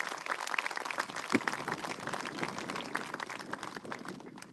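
A round of applause at a memorial: many hands clapping in a dense, even patter for several seconds, fairly faint and tapering slightly toward the end.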